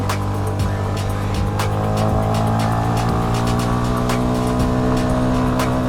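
A CFmoto 250SR 250cc motorcycle engine revving hard while climbing a steep uphill road, a loud, steady high-rpm drone with a buzzing tone and sharp intermittent ticks.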